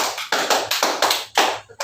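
A group claps hands in unison during a clapping game in a teachers' icebreaker session, five or six crisp, loud claps in a steady rhythm, close by.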